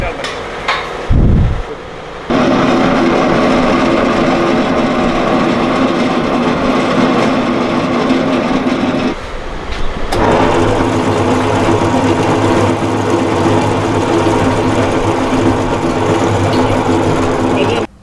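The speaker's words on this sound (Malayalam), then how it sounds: "ഇപ്പൊ നിങ്ങൾ കാണുന്ന ഈ മെഷീനാണ് ഹൈഡ്രാൾ." Hydraulic machine in an ice factory runs with a steady mechanical drone and hum. It starts after a short knock and pause and briefly cuts out midway.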